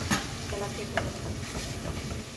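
Washed chicken being stirred into a pot with garlic and basil, frying with a soft, steady sizzle and occasional scraping clinks of the spoon, fairly quiet and close.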